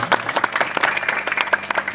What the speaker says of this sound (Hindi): अगर जाके पसंद आई तो जोरदार ताली बजा दीजिएगा।